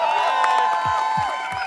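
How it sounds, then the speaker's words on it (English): A conference audience at Entrepreneurship Avenue 2023 claps and cheers in a short, lively burst, with whoops and scattered low thumps under a sustained tonal backdrop. "Round of applause."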